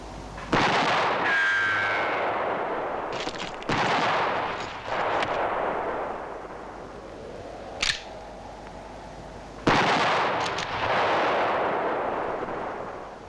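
Rifle shots from a western film, fired over people's heads: several sharp, loud cracks spaced a few seconds apart, each trailing into a long, booming echo across open country.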